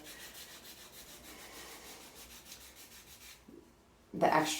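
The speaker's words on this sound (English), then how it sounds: "So give a good rub there and onto the ball of the foot and the top of the big toe" Foot skin is rubbed with a scrub mask in a home spa treatment, giving a soft, rhythmic scrubbing swish that stops briefly and then ends in a louder rustling burst.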